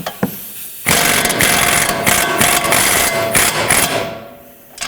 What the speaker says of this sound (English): I want to start by removing this outer bolt, nut and bolt first. 21mm on both, 21mm socket on this side, and 21mm wrench on the nut side.